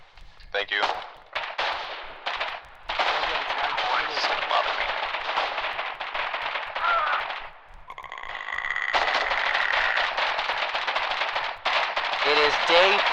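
Sustained gunfire and artillery booms from a relic base in the war game Foxhole, loud and dense with brief gaps and a steady tone near the end.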